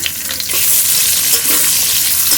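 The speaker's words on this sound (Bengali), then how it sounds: "আরও একটু তেল দিয়ে দিলাম। তেলের মধ্যে ক্যাপসিকামগুলো দিয়ে দেবো" Capsicum pieces drop into hot oil in a pan for a paneer kathi roll, a loud close sizzle that swells and holds as a dense crackling hiss, with stirring scrapes mixed in.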